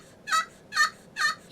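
A Talon turkey call imitates a young hen with three evenly spaced, bright yelping notes, clear and close with nothing else sounding.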